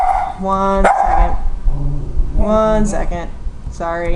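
A pet dog barks repeatedly at close range in a home office, sharp yips and barks breaking out in bursts while a person talks over them and apologizes.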